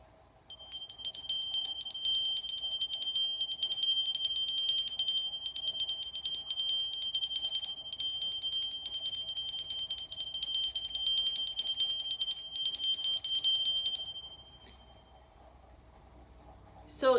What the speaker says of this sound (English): we're over here where we have different kinds of bells.